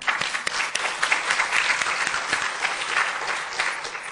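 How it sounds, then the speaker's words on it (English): An audience claps for a panel at the Women in Environmental Sciences 2019 event, with sustained, even applause of many hands close by and no voices over it. "Please clap for them."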